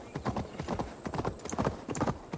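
Horse galloping in Assassin's Creed Valhalla, a fast, close clip-clop of hooves beating in quick uneven rhythm across the whole moment, fairly faint overall, with no talk over it.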